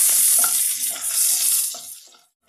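Chillies, garlic and chopped coriander sizzle and crackle in a hot pan, a bright, busy hiss with a few pops and stirring scrapes that fades away toward the end.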